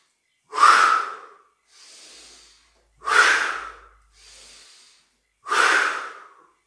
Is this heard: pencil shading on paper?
no